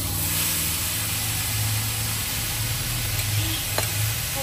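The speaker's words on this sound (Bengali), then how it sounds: "পুরো চিকেনটা যেটা ম্যারিনেট করা ছিল সেটা দিয়ে দিলাম। দিয়ে দেওয়ার পর এবার চিকেনটাকে ভালো করে পেঁয়াজের সাথে নাড়িয়ে মিক্স আপ করে নিতে হবে।" Marinated chicken sizzles with onion in a dry pan over low flame while being stirred, a steady close crackle with faint scraping and a low hum underneath.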